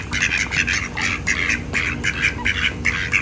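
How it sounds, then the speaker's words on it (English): Several ducks near a bayou quack for thrown corn, their loud, nasal calls coming in rapid overlapping bursts throughout, close by and with no talking. "as soon as I come out the back door, they start quacking"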